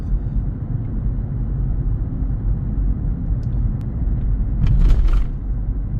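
A Kia Sorento with a VGT turbo diesel rolls with the throttle released, a steady low engine and road rumble heard from inside the cabin, with a brief faint rattle near the end.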